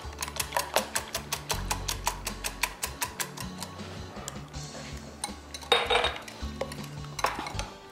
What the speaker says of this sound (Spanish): Ponemos los 6 huevos. Los bato un poquito